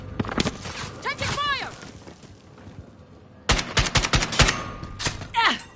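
Bursts of gunfire from Fennec and Krig guns in a shooting video game, several rapid close volleys separated by a quieter stretch, with voices talking and shouting over the shots.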